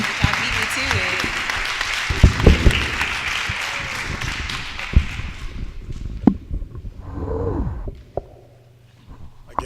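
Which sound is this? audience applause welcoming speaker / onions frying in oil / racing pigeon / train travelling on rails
audience applause welcoming speaker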